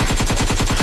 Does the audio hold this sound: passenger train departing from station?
no